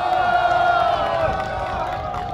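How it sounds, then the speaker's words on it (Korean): Crowd at an outdoor political rally for a presidential candidate in Naepo New Town, cheering and clapping in a loud, sustained roar with shouts mixed in. "커다란 박수 함성으로 답해 주시기 바랍니다"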